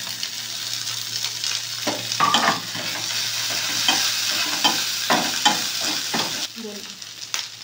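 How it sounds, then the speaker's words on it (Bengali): Ginger-garlic paste fries in a pan with a bright, steady sizzle, broken by a run of spoon scrapes and taps against the pan in the middle, close and fairly loud, with no talking. "আদা রসুনটা বেটে রেখে দিয়েছিলাম, এবার আমি দিয়ে দেবো পেস্ট করে।"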